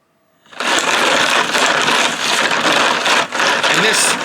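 A CNC spindle motor drives a homemade lapidary tumbler, giving a steady, loud broadband whirring hum that starts abruptly and runs on continuously with a brief dip near the end, no talking.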